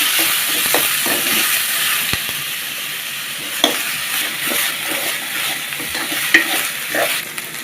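Garlic and ginger paste fry in hot oil for a silver carp fish curry, giving a loud, steady sizzle with repeated stirring scrapes and occasional sharp clinks of the spatula against the pan.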